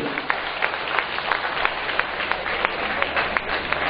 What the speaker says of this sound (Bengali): আপনারা জোরে একটা হাততালি দিন